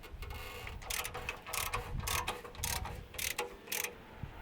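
Ratchet wrench loosening bolts on a Ford engine during a head gasket repair, a series of quick close clicking bursts separated by short pauses, fairly quiet and with no voices.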